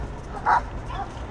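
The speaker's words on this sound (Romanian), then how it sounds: "Vezi că e un cățel mic aici." A small puppy gives one short, high yip, followed by a fainter second yelp, outdoors at a mountain offroad event with a low background rumble.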